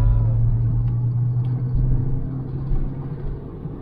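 A Citroën XM V6 car engine idles with a low steady rumble, its pitch shifting slightly as it revs to around 3000–4000 rpm, with no one talking.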